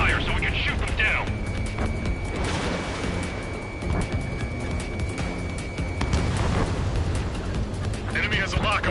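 Missile launches and explosions in the Ace Combat 7 video game, heard as a dense, continuous roaring rumble with booming swells, under clipped radio chatter from the pilots.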